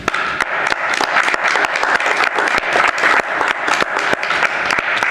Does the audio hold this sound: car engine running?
no